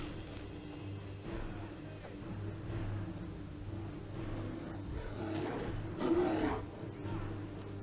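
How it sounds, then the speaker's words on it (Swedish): A bear roars in the video game Skyrim, giving a low growling roar that swells near the end over a steady game background hum. It sounds fairly faint. "Det är en till björn!"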